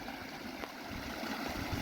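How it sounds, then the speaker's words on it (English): A creek running after several days of rain, its water flowing steadily in a soft, broadband wash with faint gurgles, heard alone at low level. "This creek is now flowing."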